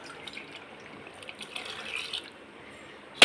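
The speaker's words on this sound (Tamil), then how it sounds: "நம்ம வேணால் கொஞ்சமாக தண்ணி ஊற்றி கழுவிட்டு இதில் போட்டுடலாம்" Water is poured and splashed to rinse out a pressure cooker while cooking sambar in a home kitchen, a soft continuous trickle close by that ends in a brief clank.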